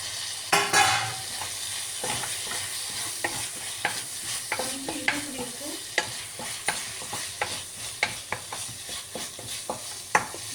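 Bitter gourd and tomato fry in a pan under a constant soft sizzle, while a spoon stirs and scrapes against the metal in sharp, irregular clicks, close and clear with no voices.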